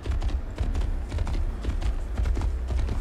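Horse hooves clip-clop steadily in Assassin's Creed, a continuous rhythmic trot of close, moderately loud hoofbeats over a low rumble, with no voices.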